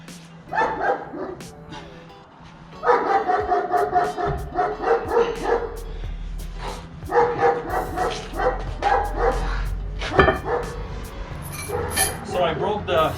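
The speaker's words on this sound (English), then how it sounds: "Fucking dog." A dog barks repeatedly in loud, close bursts with some yips and whimpers during a pull-up workout, while someone talks over and between the barks.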